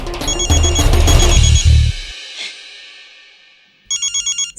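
A telephone rings in a bright, repeating electronic pattern, cutting in loudly at first over music and background noise, then returning alone after a fading tail with a steady series of short pulsed bursts.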